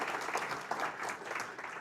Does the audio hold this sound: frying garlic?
no